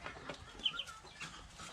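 Backyard chickens kept beside a house alongside ducks cluck softly and intermittently, the faint calls coming from a short distance with little else around.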